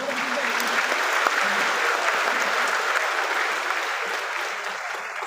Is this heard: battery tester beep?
no